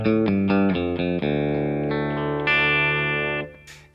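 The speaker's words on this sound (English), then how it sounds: "tele into my Rev D20 sounds like this" A Telecaster electric guitar through a Rev D20 amplifier plays a quick run of separate notes and then holds a long sustained chord, with a slightly driven, effected tone and a short noisy scrape at the end, heard close with no talking.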